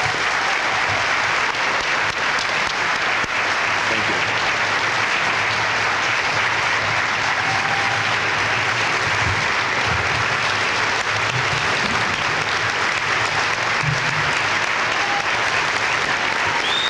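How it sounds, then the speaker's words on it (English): A large audience applauds at the dedication of a performing arts center, dense, loud and sustained clapping that fills the room without a break for about seventeen seconds. "Let's give him a nice round of applause."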